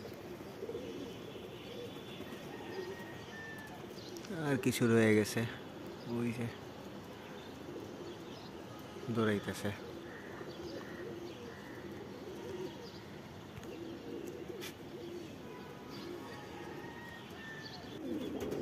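Pigeons landing after a morning flight, with calls and coos rising in two brief bursts over a quiet outdoor background, and someone talking intermittently.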